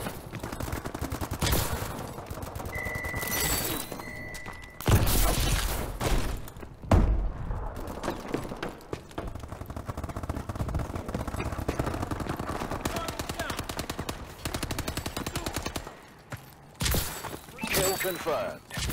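Rapid automatic fire from the AE4 DLC weapon in a shooter game crackles in repeated bursts, with heavier impacts and thuds mixed in and game announcer voice lines heard now and then.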